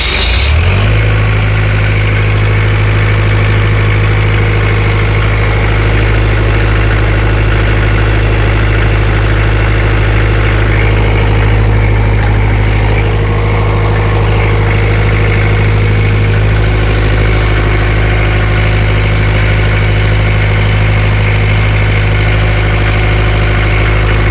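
An Isuzu C240 23 kVA 220 V diesel generator runs steadily at close range, with a loud, constant low-pitched engine drone and a strong hum throughout and no pauses.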